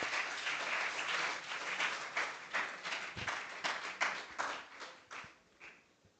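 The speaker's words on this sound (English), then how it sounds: "Please give a huge round of applause." An audience at a university lecture on nanotechnology applauds to welcome the speaker, a full burst of clapping that gradually thins into scattered individual claps before fading out.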